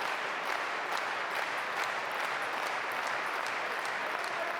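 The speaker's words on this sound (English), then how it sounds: "Table tennis fans looking for an incredible match here, clapping on FREITAS to come back." Table tennis crowd at a men's singles match at the 2017 German Open applauding steadily and loudly throughout, a dense even wash of clapping with no talk.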